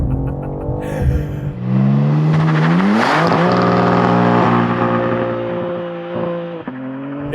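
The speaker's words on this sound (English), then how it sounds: "Let's see what happens if I brake boost it." A 2025 BMW M4 CS with traction control off launches from a brake boost: the engine revs rise loudly, then it surges forward in a roaring, close acceleration that climbs through gears before easing off.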